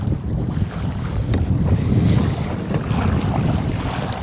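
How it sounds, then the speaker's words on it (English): Waves roll in from the northeast against a fishing boat out on Lake Michigan during salmon fishing, a steady wash of water under heavy wind noise buffeting the microphone throughout. "Waves are coming, rolling in from the northeast, and it's not nice"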